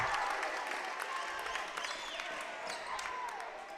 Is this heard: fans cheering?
yes